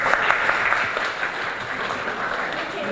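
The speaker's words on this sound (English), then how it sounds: "we'll give you a round of applause" Applause from an audience at a SEE Learning session, a dense, even wash of many hands clapping close by, fairly loud and continuous for a few seconds with no voices over it.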